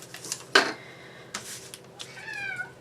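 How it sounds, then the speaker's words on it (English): A pet cat meows a few times indoors during a home paper-crafting session, one sharp close meow followed later by a longer, wavering cry, with quiet room tone between and no talking. "Oh my, y'all hear my kitty?"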